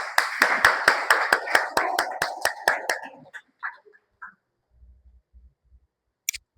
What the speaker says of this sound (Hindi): तो हम लोग जोरदार तालियों से हल्ले के साथ में स्वागत करते हैं।